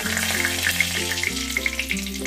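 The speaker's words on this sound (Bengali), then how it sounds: "4টে এলাচ, 3টে লবঙ্গ আর 2টো দারচিনি ফোড়ন দিলাম।" Bay leaf, cardamom, cloves and cinnamon sizzle in hot oil in a cauliflower roast preparation, a steady close frying crackle with small pops and a low humming tone underneath, no voices.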